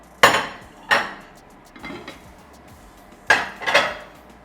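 A covered pan of smoked chicken tikka is opened, giving several sharp clanks and clinks of the metal lid and utensils spaced a second or so apart, close and loud, with no talking.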